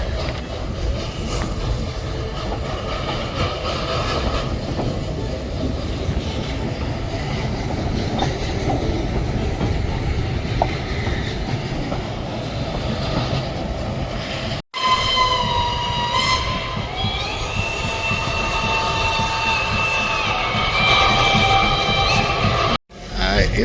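Wood-fired steam locomotives at a railway station in Maramureș, Romania, rumble and clatter loudly throughout, with whistle or horn tones sounding over the train noise and brief cuts in the recording.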